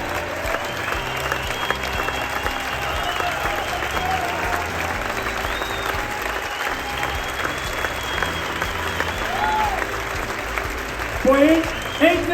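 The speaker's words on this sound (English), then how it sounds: "these guys deserve a round of applause" An audience applauds steadily for the whole stretch, a broad wash of clapping with crowd noise that swells slightly near the end while voices murmur underneath.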